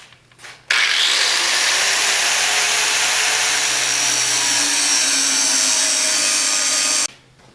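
A power tool grinds into a metal tab on a mallet, a loud, bright, continuous whine starting abruptly and running steadily for about six seconds before cutting off.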